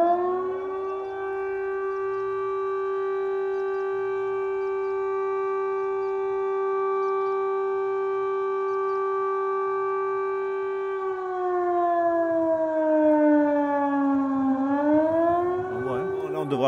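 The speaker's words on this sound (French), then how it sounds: "On entend la sirène d'incendie." A fire siren is tested in the village of Aubais in southern France, with a loud, sustained wailing tone that holds steady and then dips and rises in pitch near the end. A voice talks faintly underneath.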